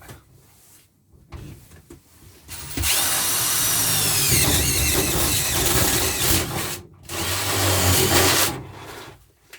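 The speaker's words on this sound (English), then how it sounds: "I've got a little stepped bit here that cuts through the steel really easily, and I'll just drill a hole" A power drill with a step bit whines steadily through steel in two long bursts with a short pause between them, loud and close, after some quieter handling noise, cutting a hole for a van's passenger sliding door window.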